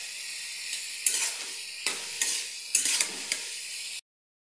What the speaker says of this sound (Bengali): এখন অনেক সময় ভাজবো।